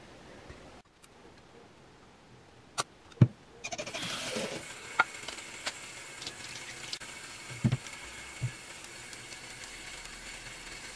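Tap water runs steadily while makeup brushes are rinsed under it, a soft continuous wash with a few clicks and knocks near the start, heard alone without talk.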